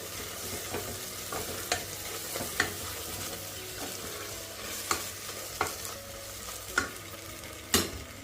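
Spices and goda masala being stirred in a frying pan for a Bhogi mixed-vegetable dish: a steady low sizzle under repeated scraping strokes of the spoon, with a few sharper clinks against the pan. No talking.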